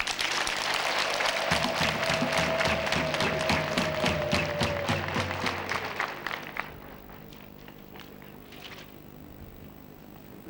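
Applause fills a ceremony at Kabgayi, Rwanda, as a large crowd claps loudly and densely for about six seconds. The clapping then thins out and fades to scattered claps.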